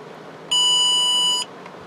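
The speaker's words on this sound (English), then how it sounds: "Make sure I got my buzzer on." A single steady electronic beep, close and clear, sounds for about a second from an electrical circuit tester's buzzer while checking the fuses on a Buick LeSabre, with a quiet room hum before and after.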